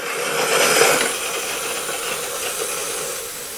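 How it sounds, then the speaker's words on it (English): Steam escapes steadily from the open end of a wood-bending steamer used for building a boat's stern arch, a loud continuous hiss that swells briefly near the start and then holds level. "we're getting spare steam coming out of this end, which means it's going"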